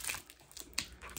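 Brief crinkling and ripping noises, like packing tape being pulled from a box, coming in quick irregular bursts at close range.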